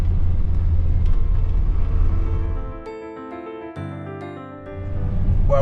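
Car driving through mountain villages in the High Atlas of Morocco near Dades Gorge, a steady low engine and road rumble that eases into a quieter whirring lull, then swells back.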